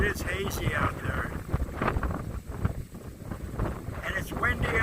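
Strong gusting wind buffets the microphone, producing a loud low rumble that nearly drowns out a voice speaking outdoors.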